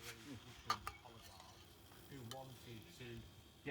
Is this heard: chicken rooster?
no